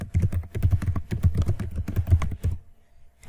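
Rapid keystrokes on a computer keyboard while entering a note in Google Keep, a dense run of close clicks that stops briefly near the end before one more tap.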